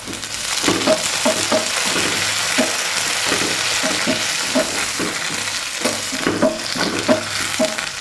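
Chopped onion and curry leaves hitting hot oil in a pan for a Kerala mixed vegetable stir-fry, a loud continuous sizzle broken by repeated scraping strokes of a spoon at a fairly regular pace, close up with no talk.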